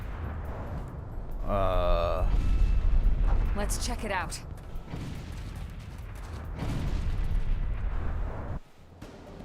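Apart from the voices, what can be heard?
explosions in Xenoblade Chronicles X video game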